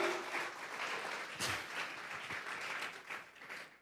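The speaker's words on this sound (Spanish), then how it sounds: "Vamos a regalarle ofrenda de palmas al Dios de la gloria." A church congregation claps in praise during a sermon, a fairly faint but continuous patter of applause that swells and dips slightly across its length.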